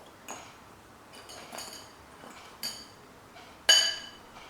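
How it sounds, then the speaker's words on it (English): A metal fork scrapes and clinks against the pot while loosening cooked krummelpap, a crumbly South African maize porridge, in an Instant Pot: a few sparse, faint ticks and one sharper clink near the end. "the krummelpap will have a light and fluffy texture as you loosen it with the fork"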